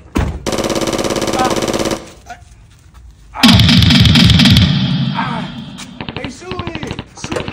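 Loud, rapid bursts of automatic gunfire from a drive-by shooting, with a long rattling volley followed by a second heavy barrage and scattered shots, as voices speak between and over the shots.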